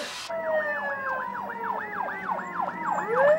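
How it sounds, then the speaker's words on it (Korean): A fire engine's wailing emergency siren sweeps up and down in rapid repeated cycles, fairly close and steady, over a low engine hum. "소방차 도착할 때쯤"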